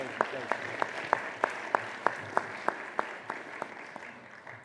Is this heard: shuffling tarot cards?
no